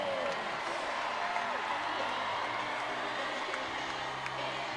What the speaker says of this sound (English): Crowd loves that overturning on the challenge.